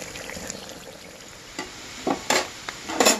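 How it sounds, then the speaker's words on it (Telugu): Chicken pieces frying in a pan for Andhra-style chicken pickle, a soft steady sizzle with several sharper stirring scrapes bunched toward the end. "ఎర్రగా ఇంకా కాస్త గోల్డ్ కలర్లోకి వచ్చిందాకా వేగనివ్వాలి"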